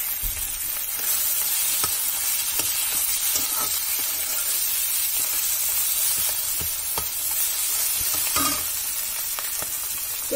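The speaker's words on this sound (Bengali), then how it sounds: "ভালো করে নেড়ে চেড়ে তারপর একটু লঙ্কা দিব, তারপর ভাজা ভাজা করে নামিয়ে দেব।" Spices stirred and fried in hot oil in a home kitchen, a steady close sizzle with repeated scraping stir strokes throughout, no talk.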